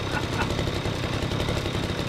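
Small engine of a mini chopper idling just after starting, a steady close throbbing putter with no break and no talk.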